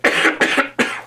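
Three harsh coughs in quick succession, close and loud, with no talking.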